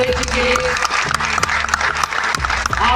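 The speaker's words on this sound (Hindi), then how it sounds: "जोरदार तालियां एक बार फिर डॉक्टर गणपत सिंह जी राजपुरोहित जी के लिए।" Steady audience applause for a guest speaker at a student event at Delhi University, many hands clapping in a dense, sustained patter with sharp individual claps standing out and faint voices underneath.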